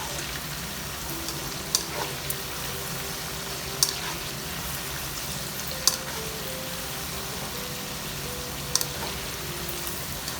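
Okra (bhindi) frying in oil for crispy bhindi fry: a steady, even sizzle with occasional small pops and clicks, close by, without any talking.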